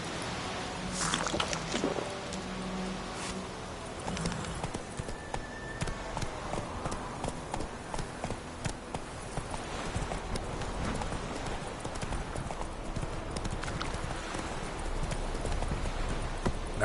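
Roach, Geralt's horse in the video game The Witcher 3, trots with a steady clip-clop of hooves that runs without a break from start to finish, close and fairly loud over a busy outdoor game ambience.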